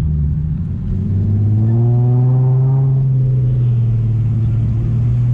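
Race car engine on nitrous accelerating hard, a loud sustained roar with rising harmonics that climb and level off over several seconds, close and continuous with no talk.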